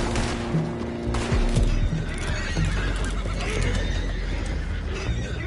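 Horses neighing loudly in the Western video game Red Dead Redemption during a gunfight ambush, a couple of close whinnies over clopping hooves and chaotic background noise.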